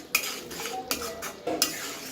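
A spoon stirs sev usal masala with green coriander in a pan, giving three or four distinct scraping clinks against the metal at uneven intervals, close and fairly quiet, with no one talking.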